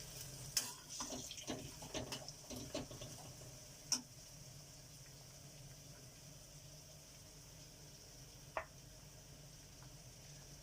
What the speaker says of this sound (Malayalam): ഒന്ന് ഇളക്കി വയ്ക്കാം.